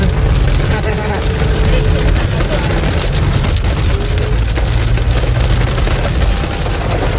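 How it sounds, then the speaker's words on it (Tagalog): Heavy rain drumming on a 2007 Toyota Innova while it drives, with a loud, steady wash of drops and low road rumble throughout and no clear breaks. "Malakas yung ulan."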